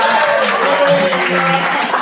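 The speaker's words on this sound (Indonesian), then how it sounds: "Luar biasa, tepuk tangan." An audience at a parish retreat for lay eucharistic ministers in Maguwo claps steadily for about two seconds, while a voice and some tonal background sound run underneath.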